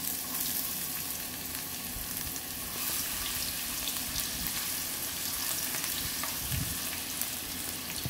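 Onion frying in hot cooking oil in a wok-style pan, a steady dense sizzle and crackle throughout with occasional stirring scrapes, close and fairly loud, no talking.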